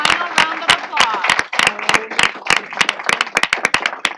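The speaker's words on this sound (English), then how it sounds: "a final round of applause." A final round of applause for Michigan Blue Ribbon public schools at a State Board of Education meeting: a modest group claps, with sharp, separate, close-sounding claps in an uneven rhythm.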